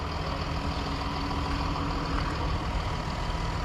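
A 2023 Ford Ranger Wildtrak pickup's 3.0-litre V6 diesel engine idles with a steady, low, even rumble, fairly subdued and unbroken throughout, heard alone without talk.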